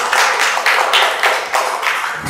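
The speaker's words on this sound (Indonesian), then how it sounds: "Sebelumnya berikan tepuk tangan kepada Amel Korinisa" Audience applause in a classroom-style online teacher training session, a dense, steady patter of hand claps filling the whole stretch at moderate loudness with no talking over it.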